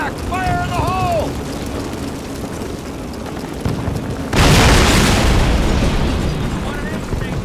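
A massive demolition blast in a Call of Duty mission at 1944 St. Mere Eglise, Normandy, a sudden loud boom with a long rumbling tail, following shouted voices and battle ambience.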